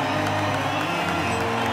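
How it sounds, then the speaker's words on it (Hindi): A short, dense burst of crowd clapping and cheering, loud and continuous with a music bed underneath. "ये लो तालियां।"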